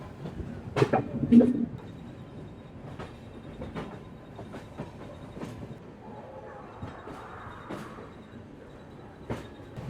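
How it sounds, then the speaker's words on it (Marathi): A train hauled by a WDG3 diesel locomotive departs Chhatrapati Shivaji Maharaj Terminus, with a cluster of loud clanks and knocks early, then lighter intermittent wheel clacks over a low rumble. "सो चला आपली ट्रेन झाली रवाना छत्रपती शिवाजी महाराज टर्मिनस इथून"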